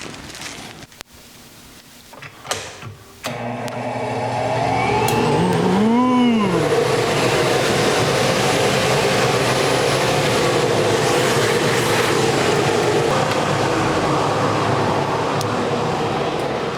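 Heavy-duty workshop vacuum with a long hose runs loud and steady after a few knocks and clicks, a continuous broadband whoosh with a brief rising whine as it spins up, filling the whole stretch.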